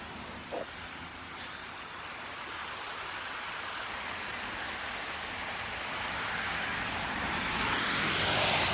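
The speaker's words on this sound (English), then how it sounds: "water running over it" A creek with water running over it on a January morning walk, a faint, steady rushing flow that slowly swells louder toward the end, with a brief soft knock near the start.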